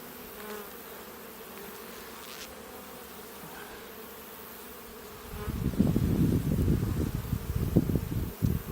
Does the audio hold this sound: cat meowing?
no